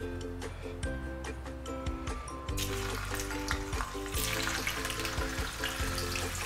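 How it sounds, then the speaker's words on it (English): Traditional pressed tofu deep frying in hot oil for a tofu and fishhead stew gives off a steady, close sizzle and crackle throughout. The frying grows denser and brighter partway through, with faint tonal sounds in the background. "traditional pressed tofu is because it's easier to deep fry"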